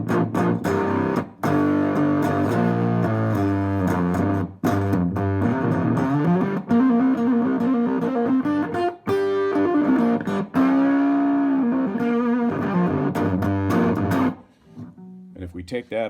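Electric guitar through a homemade fuzz distortion pedal built from a junk CB radio circuit with a large electrolytic input capacitor, giving a loud, thick, heavily saturated tone with sustained chords and notes played continuously before fading.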